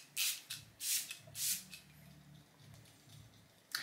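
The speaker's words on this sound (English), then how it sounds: "what we should all do at the end of any powder foundation application, is spray some setting spray" Four quick hissing bursts of makeup setting spray from a small pump bottle, evenly spaced, then a quieter pause before one more short spritz at the end.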